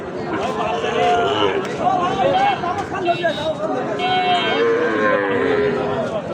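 Sahiwal cattle at the Ambari livestock market low loudly and repeatedly over a busy crowd murmur, with people talking nearby.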